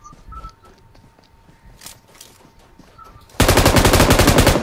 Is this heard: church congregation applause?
no